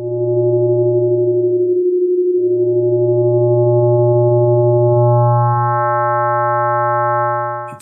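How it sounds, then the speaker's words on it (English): Synthesized sine wave tone with changing modulation depth, a steady pure hum that briefly cuts out, then returns as added overtones build up and the sound grows richer. "Now we can vary the depth of the modulation."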